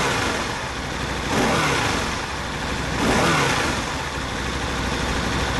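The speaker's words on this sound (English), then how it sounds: "Brilliant engine. It's so strong, so torquey, and it revs so quickly." An Aprilia ETV1000 Caponord motorcycle's 1000 cc engine idles and is revved twice, each quick rise in pitch and volume falling back to a steady rumble, heard close with no talking.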